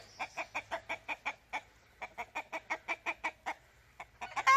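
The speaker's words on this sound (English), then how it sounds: "That rooster right there." A rooster clucks close by in quick rhythmic bursts, about twenty in a row with a brief pause midway, ending with a louder squawk.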